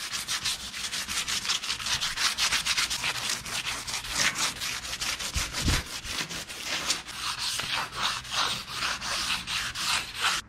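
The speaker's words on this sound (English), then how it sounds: "I am going to go ahead and hand sand the sides because I don't want to burn through with the sander." Sandpaper is rubbed by hand along the edges of a carbon fiber epoxy piece, giving rapid rhythmic back-and-forth scratchy strokes, loud and close, continuing steadily.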